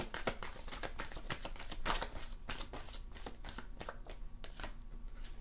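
Tarot cards being shuffled during a card reading, a continuous run of close, crisp riffling and flapping strokes that keep going steadily with no voice over them.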